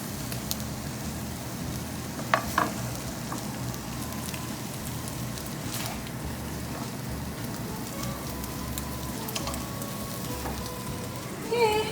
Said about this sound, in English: You don't have to close the lid, just give it a stir